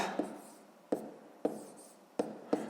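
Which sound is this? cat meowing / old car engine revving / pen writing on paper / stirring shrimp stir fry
pen writing on paper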